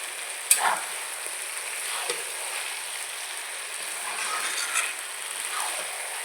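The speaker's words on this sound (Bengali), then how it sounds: "মাংসটাকে ভালো করে মশলার সঙ্গে মিশিয়ে নিচ্ছে" Mutton stirred and mixed with spices in a pan, with a continuous bright sizzle of frying and a few scraping, clattering spoon strokes against the pan, close by and with no talking.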